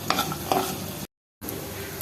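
Green chilies, garlic and onion frying together with yardlong beans in a pan, a steady loud sizzle with a couple of stirring scrapes, broken by a brief silent gap before the hiss resumes.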